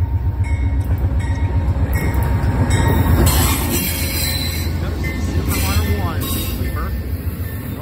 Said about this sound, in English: This is Amtrak. This is Genesis number 12. 17.